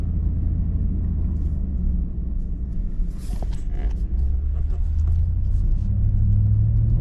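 Ford Super Duty gasoline pickup towing a heavy load in first gear, a deep continuous engine rumble from the cab that swells louder near the end, with faint talk underneath.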